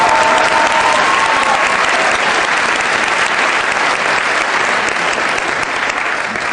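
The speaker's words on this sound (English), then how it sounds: "please join me in a round of applause" Loud, dense audience applause fills the whole stretch, steady clapping from a large crowd at a high school marching band event, with no voices rising above it.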